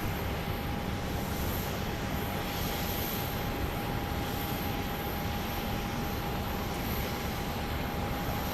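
A Boeing 737-800 arriving from Phoenix at Dallas Love Field, landing long on the west side, heard as a faint, steady distant engine rumble and wash of noise with a thin high tone running through it, no voices.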